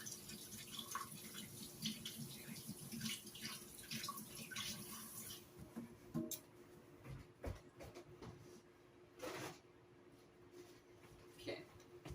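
A large unwashed egg rinsed under a running kitchen tap: a steady stream of water splashes and gurgles over the shell and into the sink, with quiet talk now and then.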